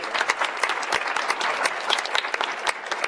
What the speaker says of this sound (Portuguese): vocês estão aplaudindo a fake news